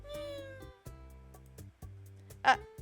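A cat gives a single short meow in the Dandelion: Wishes Brought to You video game, rising briefly over soft, steady background game music.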